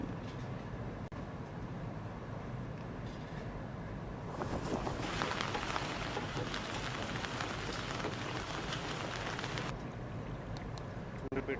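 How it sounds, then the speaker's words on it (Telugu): Heavy rain from Cyclone Montha pours down in Suryapet as a dense, steady hiss that swells louder through the middle stretch, then eases back, with no clear speech. "ఈ ముంత సైక్లోన్ ప్రభావం వల్ల భారీ నుంచి అతి భారీ వర్షాలు మనం చూస్తూ ఉన్నాము"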